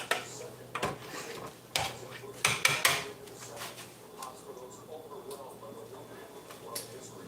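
Mushrooms with wine and teriyaki sauce get stirred in a pan, a spoon clinking and scraping against the metal in scattered knocks over a low sizzle, while a voice talks now and then.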